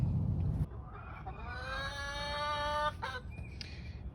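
Hens in a roomy 16-by-16 chicken coop runway shared by six birds give a drawn-out, rising cackle in the middle, close and clear over a low background hum, with softer clucks around it.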